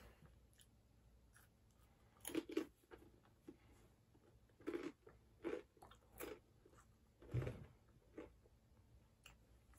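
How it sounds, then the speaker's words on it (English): Crunchy fajita-flavored Takis rolled tortilla chips are bitten and chewed in several separate bursts of crisp crunching, close and fairly quiet, with pauses between bites and no talking. "Next, we're gonna try crunchy fajita Takis."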